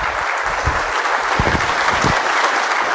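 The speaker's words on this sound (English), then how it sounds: "please join me in giving a warm round of applause to Mr." A conference audience gives a keynote speaker a warm round of applause: steady, full clapping from many hands that holds evenly throughout, with no voices standing out.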